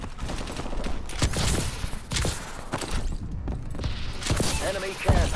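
Rapid automatic gunfire in the first-person shooter Call of Duty: Advanced Warfare, continuous dense bursts at moderate level with game effects, a player's voice talking over it.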